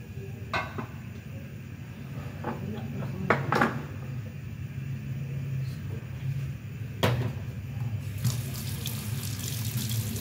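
Water runs steadily from a kitchen tap as a sink is scrubbed clean with soap, broken by clunks and knocks of items being moved, while a person talks quietly in the background.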